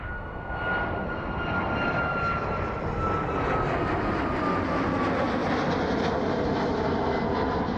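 A jet aircraft takes off from runway 27 at East Midlands Airport in the evening, its engines a loud, sustained roar with a rising whine, heard steadily throughout with no voices.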